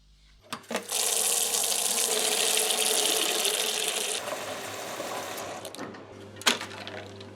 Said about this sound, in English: I'm just going to take all these bits and give them a bloody good wash.